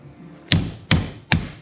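Three sharp, evenly spaced hammer blows strike a centering punch to set a rivet in a brake shoe from a John Deere B tractor, each a loud metallic crack with a short ringing decay.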